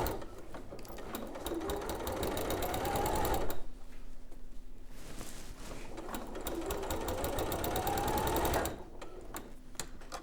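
A sewing machine runs a long decorative stitch in two sustained bursts of rapid, even needle chatter, loud and close, with a brief lull between the runs as fabric is guided across.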